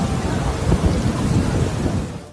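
A heavy downpour on the plain of Arafat, with thunder rumbling low beneath the loud, dense roar of the rain. It is steady and close, with no voices.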